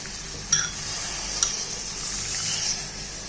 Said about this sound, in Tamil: எல்லாத்தையும் நல்லா மிக்ஸ் பண்ணிக்குவோம்.